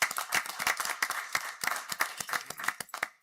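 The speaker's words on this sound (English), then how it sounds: "Give her a round of applause." A small scattered round of hand clapping at a school board meeting, individual claps distinct and uneven, moderately close and fairly light, with no talking over it.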